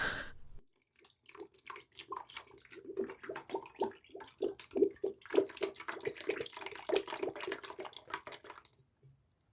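Apple cider vinegar pours into a bucket holding the parts of a dirty snake-shaped candle holder, giving a steady gurgling, splashing stream of liquid that lasts several seconds and then stops.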